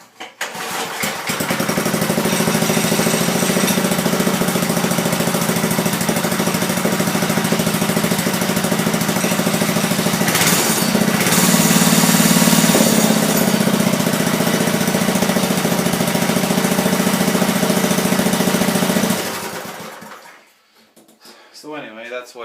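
A Manco Thunderbird mini bike engine with a muffler fitted idles steadily and loud for about nineteen seconds, a low even drone, before cutting off into near silence.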